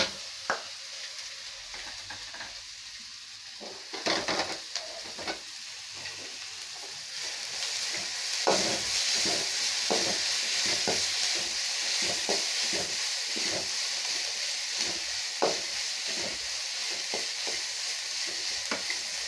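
Green chilies and curry leaves sautéing in hot oil for red poha upma, a continuous close sizzle and crackle punctuated by frequent sharp scraping and clinking strokes of a ladle stirring in the pan, no talking.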